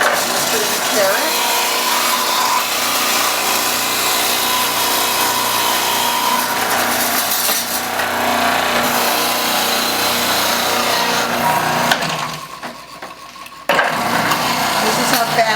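A Magimix juicer whirs loudly and steadily while juicing carrot, with a brief dip in the grinding motor noise before it returns at full strength.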